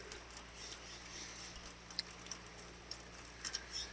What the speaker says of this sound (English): And yes, it's raining.